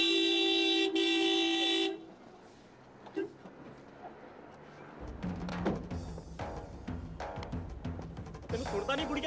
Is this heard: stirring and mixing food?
no